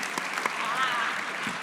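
A conference audience gives a short burst of applause, its clapping soft and somewhat distant, with a voice talking over it.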